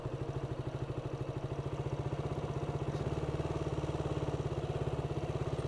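A motorcycle engine in first gear, ridden by a first-time rider, makes a steady, close, rapid thumping with an unchanging rhythm, its tone shifting slightly about halfway through.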